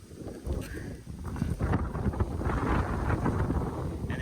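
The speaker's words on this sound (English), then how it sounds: "And it's super windy today," Strong wind buffets the microphone outdoors beside a pond at an off-grid property in Portugal, a continuous roaring rumble with rising and falling gusts and no speech.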